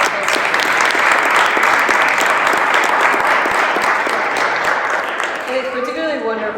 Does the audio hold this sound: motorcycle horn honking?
no